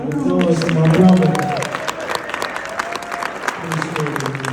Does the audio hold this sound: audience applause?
yes